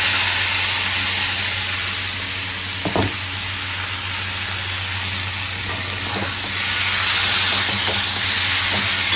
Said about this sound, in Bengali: একটু কষে নিই, তারপর কুকারে করবো।